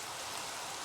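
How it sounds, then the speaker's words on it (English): Rain falling in the Minecraft game, a steady, even hiss of broadband patter, fairly faint and continuous with no voices over it. "I'm sick and tired of the rain."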